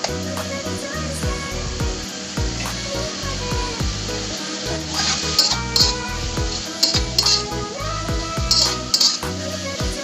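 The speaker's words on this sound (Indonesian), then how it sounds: "Kita tumis sebentar." Half-cooked corn sautéing in a frying pan with a steady sizzle, while a utensil repeatedly clinks and scrapes against the pan over a dense, continuous backdrop.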